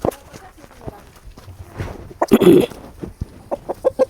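Giriraja and native chickens cluck in short bursts close by, with a louder flurry in the middle, while people talk in the background.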